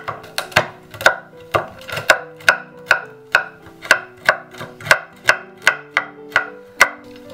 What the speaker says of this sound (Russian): И сейчас нарезаем на кусочки.